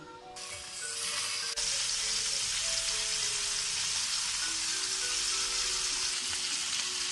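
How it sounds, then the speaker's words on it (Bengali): Loud, continuous hissing sizzle of prawns frying in hot oil, starting abruptly and holding steady to the end with faint tonal hum underneath. "প্যানের মধ্যে আমি সামান্য সাদা তেল দিয়ে এবার মাছগুলোকে আমি ভেজে তুলে নেব।"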